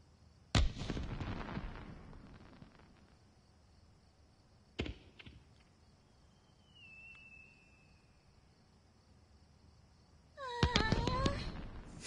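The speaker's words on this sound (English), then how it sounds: "The fireworks." Fireworks bursting over a pitch-black night sea in the VR game Summer Lesson: a sharp boom, a second pop a few seconds later, a faint whistling rise, then a loud cluster of crackling bursts at the end, with no talk.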